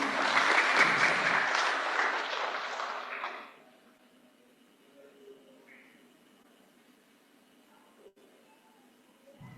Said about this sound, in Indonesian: boleh kita berikan tepuk tangan yang paling meriah untuk para pemenang